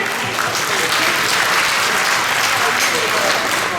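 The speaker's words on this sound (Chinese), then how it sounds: "是我们的盛伟，是不是给他热烈掌声" Warm applause for the church accompanist at a congregation's anniversary thanksgiving dinner: a dense, steady burst of many hands clapping together, loud and close, lasting the whole clip.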